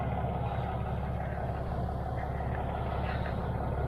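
A car-carrier truck's engine idles with a steady, deep rumble and a low harmonic drone, holding constant and close throughout.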